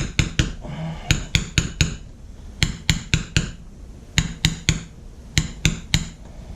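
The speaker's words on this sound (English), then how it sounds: "tapping on this with a hammer, being a hydro pump" Sharp metallic hammer taps on a Walker mower hydro pump in quick clusters of three to five, repeating steadily with short pauses, close and crisp.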